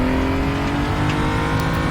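BMW M235i Racing car on throttle at the Portimao circuit, its engine droning steadily and loudly throughout with a sustained strained tone, no pause in the power and no voices over it.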